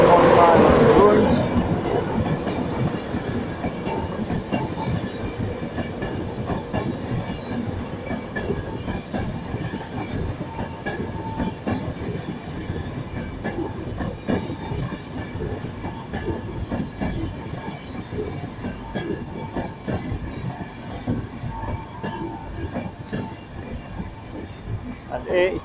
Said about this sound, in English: Departing now is the LNER cross-country LNER service to Edinburgh.